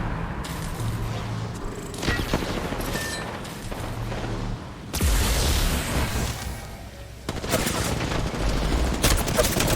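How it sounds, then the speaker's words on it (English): Dense video game gunfire, with rapid bursts and repeated shots running through the whole stretch and heavy booms midway, loud and close, with some speech faintly under the shooting. "Why is it shooting you, man?"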